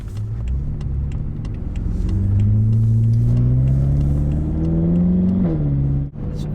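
BMW M5 fitted with a ShiftPower throttle response controller accelerates smoothly, its engine drone rising steadily in pitch for several seconds before easing off, heard from inside the car with no talk.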